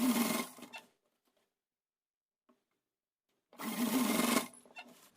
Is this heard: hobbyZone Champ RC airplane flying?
no